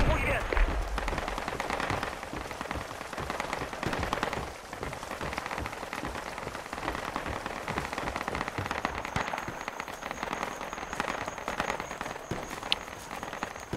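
Dense bursts of gunfire in the tactical shooter Project Reality, crackling steadily for the whole stretch amid rain-like noise, with talk over it at times.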